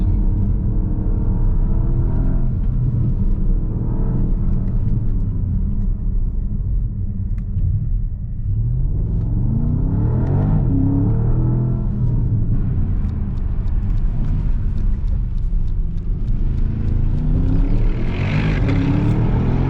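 A 2023 Porsche Panamera GTS accelerating up a slippery mountain pass near a ski resort, its engine a loud continuous rumble that swells and climbs in pitch through repeated surges over about twenty seconds, with no talk.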